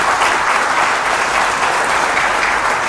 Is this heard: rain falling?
no